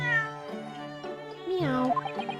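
A cat meows in The Great Ace Attorney Chronicles video game: a few clear, close, drawn-out meows with rising and falling pitch, one after another, with no talk.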